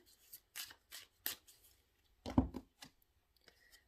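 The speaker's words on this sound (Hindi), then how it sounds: "मैं इसको फिर शफल कर लूं" Tarot cards being shuffled by hand, a series of soft brief riffles and flicks, close and quiet with short gaps between.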